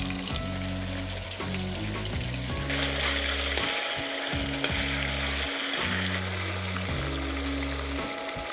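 Floured beef chunks sauté in a hot pan for goulash, giving a steady sizzle and crackle with stirring scrapes throughout, close and moderately loud, no talking.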